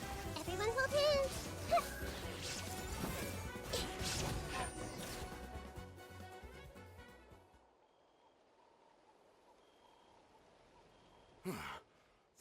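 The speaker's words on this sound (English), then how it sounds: "Illusion shattered!" A glassy shattering crash breaks an illusion in Genshin Impact, a loud short burst near the end after game music and voices fade to quiet, with a brief rattling tail.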